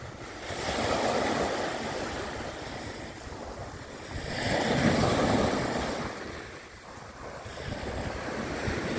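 Sea surf rolling in at Kessingland Beach at sunrise, broad hissing waves swelling and easing in slow surges with wind noise across the microphone, no voices.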